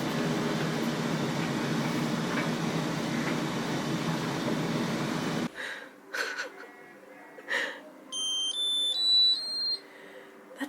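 A clothes dryer rumbles steadily, then goes quiet and plays its end-of-cycle tune, a short sequence of clear electronic tones, amid faint handling noise and brief vocal sounds nearby.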